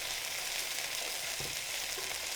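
Onions soften as they fry in a pan for a meatball sauce, giving a steady, close, even hiss throughout with one or two faint soft knocks.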